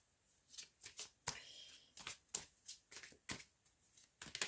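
Mirror oracle cards being shuffled close by, a string of quick papery riffle bursts in an uneven rhythm, with no talk over them.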